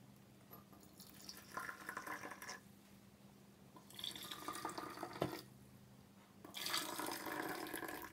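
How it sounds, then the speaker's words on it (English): Boiling water poured into containers in three separate bursts with quiet pauses between, a soft splashing rush over a low steady hum. "now we can pour it in the containers."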